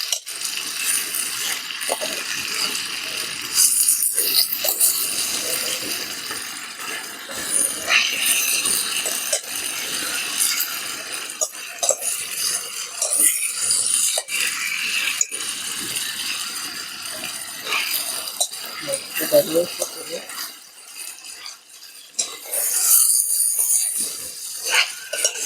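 Chicken fry stirred in a pan outdoors in a forest: a steady bright sizzle with irregular scraping and rattling clicks from the stirring, close up and continuous.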